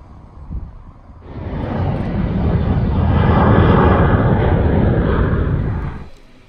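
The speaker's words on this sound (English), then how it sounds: "My aircraft for this evening's flying arrived in from Hammerfest" A Widerøe Dash 8-100 turboprop arrives at an Arctic airport, its engine roar swelling in from faint to a loud, broad rumble that holds steady before fading as it passes.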